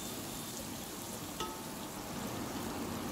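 Onions sauté in hot oil for prawn biryani with a steady, continuous sizzle and crackle, close by and with no talking.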